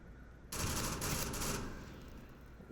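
Rifle fire in the VR shooter Onward during a competitive match: a sudden loud burst of gunshots erupts after a brief quiet, sustaining dense rattling reports for about a second before decaying into a lingering echoing tail.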